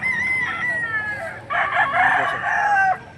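A rooster crows loudly and close by at a market where chickens are being sold, one drawn-out call with a raised middle section, with faint voices in the background.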